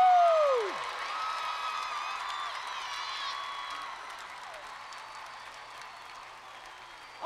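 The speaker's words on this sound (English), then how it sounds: "give the biggest round of applause for Craig and Mark Kielburger" A large audience applauds and cheers for Craig and Mark Kielburger with a sustained, far-off wash of clapping that slowly fades, opening with a sliding whoop-like tone.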